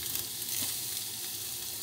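Garlic sizzles in a hot pan, a faint, steady hiss of frying that runs close and unbroken, with no talk over it.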